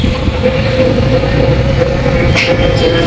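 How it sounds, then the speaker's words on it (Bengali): A village van fitted with an engine speeds along, a loud, steady motor drone with a constant hum and rushing road noise running close throughout, with a brief brighter burst near the end. "এই ভ্যানগুলোতে ইঞ্জিন লাগানো এই জন্য এত তাড়াতাড়ি যাইতেছে"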